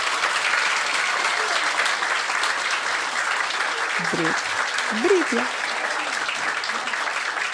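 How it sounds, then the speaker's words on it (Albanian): Strong, sustained applause from an audience for first-grade children at a school event, steady throughout, with a voice briefly heard over it midway. "dua që ju t'i dhuroni një duartrokitje shumë të fortë"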